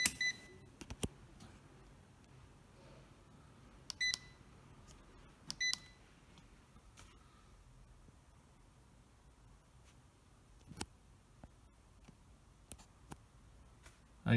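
A multimeter testing a single-phase motor capacitor gives faint, sparse clicks and a couple of short electronic beeps in an otherwise quiet space.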